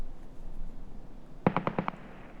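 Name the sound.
grenade explosion from video game Escape from Tarkov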